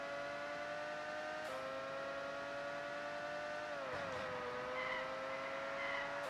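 A high-revving race car engine whines in F1 Pole Position 64 on the Nintendo 64, a steady buzzy tone shifting pitch with gear changes, dipping and dropping around the fourth second, fairly faint and alone.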